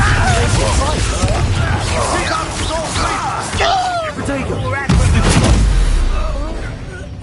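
Bombarda blasting spell explosions and combat blasts in Hogwarts Legacy land amid a busy fight, with repeated booms and sharp impacts beneath shouting voices and whooshing effects, loud throughout.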